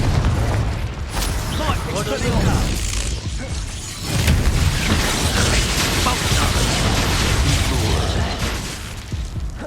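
Spell blasts and explosions from the Hogwarts Legacy video game, including a Confringo fire spell, boom over continuous crackling combat noise and rumbling effects, loud and close, with shouted voices throughout.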